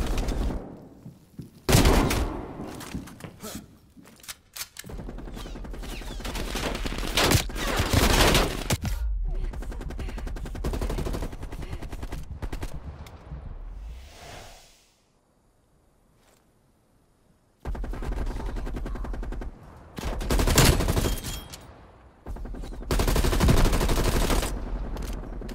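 Bursts of automatic gunfire in Call of Duty: Black Ops Cold War, with the rounds punched through walls, come in loud repeated volleys broken by a brief quiet stretch, then resume hard.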